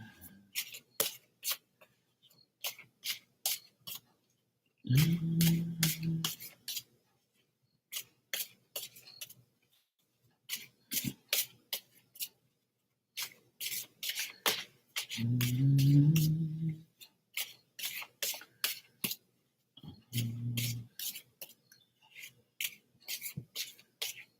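Cleaned playing cards are shuffled in repeated bursts, each one a quick rapid riffle of flicking clicks separated by short pauses. A voice hums or speaks softly now and then between the shuffles.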